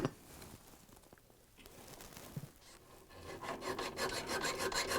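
A hacksaw cuts through the metal axle of a Frigidaire/Electrolux rear caster wheel, starting with light scraping and building into a rapid, rhythmic rasping of close strokes that grows louder toward the end.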